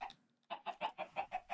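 Chickens in the video game Minecraft cluck in a quick regular series of about seven short calls, clear and close after a brief quiet start.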